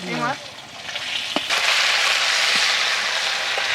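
Fish heads from a pangas fish frying in oil, a loud steady sizzle that fills the whole stretch, with a brief voice at the very start and a few faint clinks.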